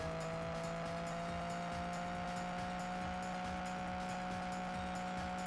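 Engine drone of the Spanker, a car in a PS1 racing game, holds a steady pitch while quieter rhythmic tire squeals repeat over it, all at low level.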